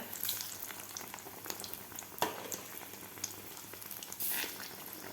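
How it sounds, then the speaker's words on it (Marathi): Potato-stuffed chilli pakoras deep-frying in hot oil, a continuous close bubbling sizzle with occasional louder crackles and a brief stirring rustle. "आता व्यवस्थित आपल्याला हे गोल्डन कलर होईपर्यंत तळून घ्यायचे आहेत."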